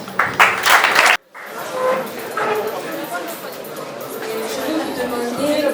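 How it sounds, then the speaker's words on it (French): Church-like gathering of an audience clapping at first, then falling into a loose murmur of chatter and shuffling after the clapping breaks off. "applaudissements, s'il vous plaît."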